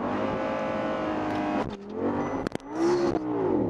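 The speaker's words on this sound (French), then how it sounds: "Et là on appuie à fond simultanément sur la pédale de frein et d'accélérateur." Audi R8 V10 Spyder making a launch-control start with wheelspin: a loud, sustained high-revving engine roar that cuts off briefly, then surges again with rising pitch and sharp bursts, close up.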